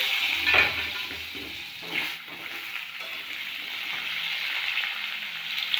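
Potatoes frying in oil left over from frying fish, a continuous close sizzle with a few soft bumps of pan handling, no one speaking.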